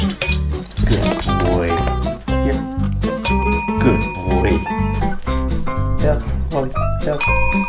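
A German Shorthaired Pointer or Labrador Retriever rings a bell for treats, producing repeated bright, close metallic dings in quick succession, mixed with a person praising the dog.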